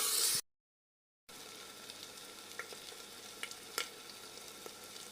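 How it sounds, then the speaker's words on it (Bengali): Garlic and ginger paste with ground spices frying in oil in a pan, a steady soft sizzle with occasional small pops and faint stirring clicks, following a brief burst and a short silence. "জিরের গুঁড়ো, মশলা 2 মিনিট ভেজে নিয়েছি"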